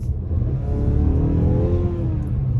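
A Porsche Carrera GT engine revs hard and close, a loud sustained roar with rising and falling pitch that fills the whole stretch without any voices.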